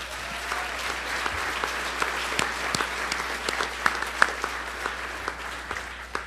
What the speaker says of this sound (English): behind the curtains who won't come out but deserves a big round of applause